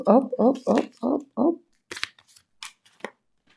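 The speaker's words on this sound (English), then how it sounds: "I'm shuffling on camera in front of you." Tarot cards are shuffled by hand after a short stretch of talking, as a few soft, brief riffling bursts spaced apart with quiet gaps between them.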